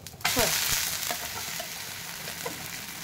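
A wheat flour chilla fries on a pan with a steady, even sizzle that starts abruptly and carries on close and fairly loud, with a few faint scraping touches while it is turned.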